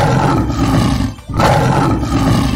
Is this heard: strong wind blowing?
no